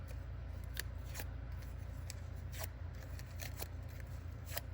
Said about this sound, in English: You just pull it out and pull that bone folder right across the petal